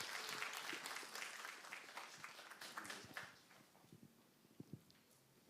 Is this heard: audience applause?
yes